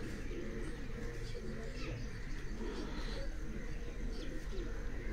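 Pigeons coo softly on a house rooftop in Chak Shahzad, faint repeated calls under steady low background noise.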